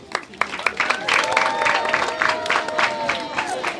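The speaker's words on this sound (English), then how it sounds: "Let's clap for them" A crowd at a primary school speech and prize-giving day claps and cheers for the champion netball team, with scattered sharp claps, cheering voices and background chatter mixed together.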